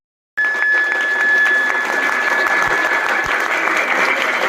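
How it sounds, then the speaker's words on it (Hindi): A crowd at a patriotic poetry recitation breaks into dense, steady applause after a brief silence, close and loud, with a faint tonal whine running through the first part. "तालियां"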